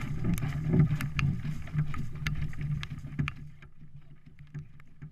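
A hand pump empties water from a kayak during a paddle float self-rescue, giving rhythmic sloshing and splashing strokes near the microphone, louder at first and then easing into quieter drips and trickles.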